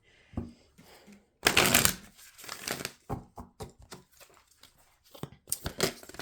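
Tarot cards being shuffled by hand, a run of quiet riffling and slapping bursts, one louder flurry early followed by shorter irregular shuffles, close and faint with no talk.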